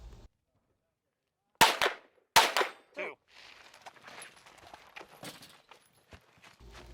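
Two sharp, loud 9mm pistol shots about a second apart at a 2 Gun action challenge match, followed by shuffling movement and faint handling noise.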